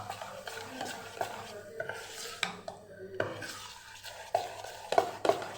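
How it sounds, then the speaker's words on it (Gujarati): A spoon stirs dhokla batter in a bowl right after Eno and a little water are added, giving close, irregular scraping and clinking taps against the bowl with no talking. "તરત આપણે મિક્સ કરી દેવાનું ઈનો ઉમેરીને"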